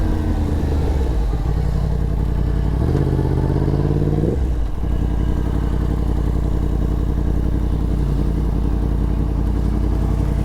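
A 2022 Yamaha MT-10 SP motorcycle pulling into a gas station, its engine a loud, close, low rumble with a brief rising rev before settling back to a steady idle-like throb.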